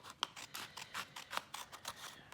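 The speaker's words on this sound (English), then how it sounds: "Just gonna cut right along that fold that we created," Scissors snip steadily along a creased fold in a square sheet of paper, a run of about ten crisp, close cuts in a quick regular rhythm, heard alone.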